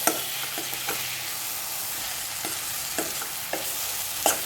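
Banana stem pickle cooks in a pan with a steady, close sizzle and frying hiss, broken by occasional light stirring clicks and scrapes. No one speaks.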